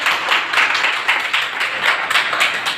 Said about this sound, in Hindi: चलिए ताली लगा दीजिए, जोरदार ताली लगाइएगा